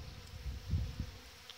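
Honey bees buzzing around a water feeder in early spring, a soft low hum swelling and fading over a faint background, with no voices.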